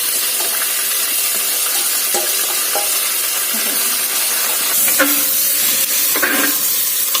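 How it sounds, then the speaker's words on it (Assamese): Ingredients for an instant pulao browning in a pan make a steady sizzling hiss, with a few brief scraping stirs near the end, all close and alone. "এতিয়া এইখিনি আমি ভালদৰে ৰঙচুৱা হোৱালৈকে এনেদৰে ভাজি থাকিম"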